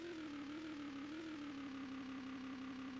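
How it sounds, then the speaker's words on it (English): Engine sound from an indie video game in development, a steady droning hum that rises and falls slightly in pitch as it revs with acceleration, loud and continuous with no talk. "the engine revs with the acceleration"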